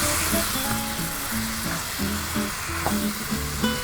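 Pork belly coated in char siu sauce sizzling steadily in a hot pan while being mixed, a continuous loud frying hiss with soft stirring scrapes on top, close up and without talk.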